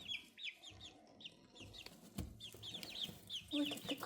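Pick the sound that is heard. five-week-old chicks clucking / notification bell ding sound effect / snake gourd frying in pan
five-week-old chicks clucking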